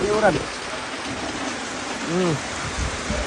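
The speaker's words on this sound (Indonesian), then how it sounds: "kita terporak oleh hujan, terporak-poranda" Heavy rain pours in a steady, close, dense hiss across the whole stretch, while people talk briefly over it.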